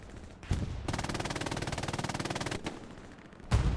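Machine gun in Hell Let Loose, fought at Omaha near Vierville-sur-Mer, firing one long rapid burst of evenly spaced shots with a brief single shot before it and another crack at the end.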